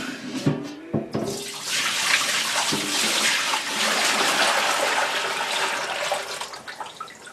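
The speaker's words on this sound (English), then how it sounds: "we're going to dump the old water that we had in this pot" Old water dumped from a cooking pot into a kitchen sink, a loud continuous splashing pour lasting several seconds after a few short clanks, tapering off with trickles at the end.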